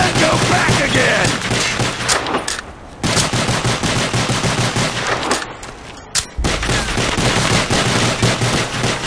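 Rapid, loud video game gunfire rattles almost nonstop in dense bursts, with only two short pauses in the shooting.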